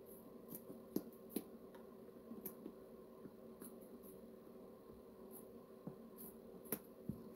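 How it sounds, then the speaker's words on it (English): Scissors trim the seam line of a small mini pumpkin, giving faint, sharp snips and clicks at irregular intervals over a quiet background. "I'm using these funky looking scissors right here to get as low as I possibly can on the seam line right here,"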